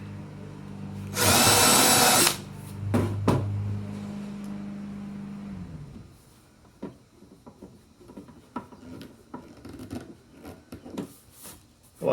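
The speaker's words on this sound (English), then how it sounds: "It guides the drill right down into the center." A power drill cuts away aluminum on a Ruger Red Label shotgun case bottom panel, one loud high whine for about a second, then a shorter burst followed by lower motor hum and scattered scraping and handling noises.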